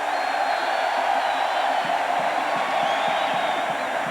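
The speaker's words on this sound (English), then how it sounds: "and the crowd applauds" A stadium crowd at a UCLA Bruins college football game gives a steady, distant roar of applause and cheering that carries on throughout without a break.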